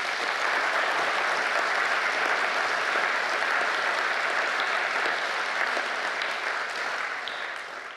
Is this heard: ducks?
no